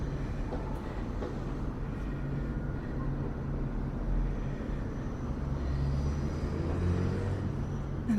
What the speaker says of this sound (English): You can hear the traffic, I suppose.